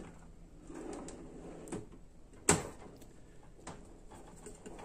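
Drawers on a green five-drawer Harbor Freight steel tool cart slide and shut in a quiet room, with soft rolling scrapes and one sharp close, a few fainter knocks around it.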